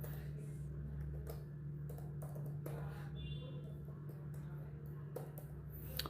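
Someone types on a computer keyboard during laptop motherboard repair work, a scattered series of light clicks over a constant low electrical hum.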